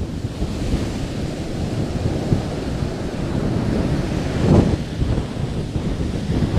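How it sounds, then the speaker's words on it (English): Ocean waves roll and crash on a beach at Hammond in high wind, a continuous roaring surf with heavy wind buffeting the microphone and one stronger surge near the end. "Let's take a look back at the waves."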